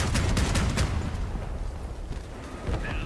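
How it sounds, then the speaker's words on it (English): Weapons fire from armored combat vehicles in Crossout, a dense cluster of sharp shots early on that thins into a rumbling battle din with distant bangs. "Oh, someone's shooting stuff"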